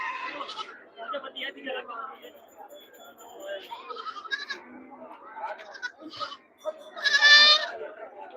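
Goats bleat at the Puthiyamputhur goat market in Thoothukudi district, scattered calls through steady crowd chatter and a loud, close bleat near the end, with people talking throughout.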